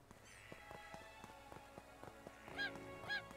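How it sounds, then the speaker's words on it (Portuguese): Chicken or rooster in the video game Craftopia: a couple of short honking clucks rise near the end over a quiet bed of soft rhythmic tapping and light pattering. "tem um galo aqui."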